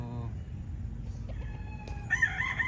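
A rooster crows briefly at the start, then chickens cluck and chatter nearby, soft and close, over a steady hiss of rain.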